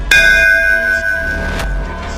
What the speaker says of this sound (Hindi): शायद यही सही घंटी है